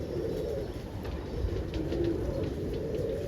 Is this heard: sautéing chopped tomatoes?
no